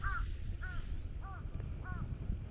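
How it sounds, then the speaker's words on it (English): Crows caw by a river in Kyoto, giving four harsh, evenly spaced calls over a low, steady outdoor rumble. The calls sound moderately close. "you can hear the birds chirping"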